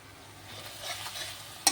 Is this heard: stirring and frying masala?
yes